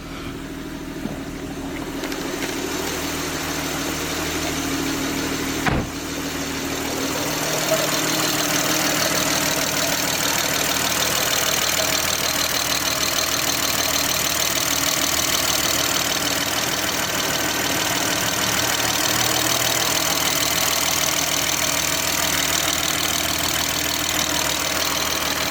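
A BMW F30 340i engine idling steadily after starting, a continuous even rumble close by with one brief knock partway through and no talk.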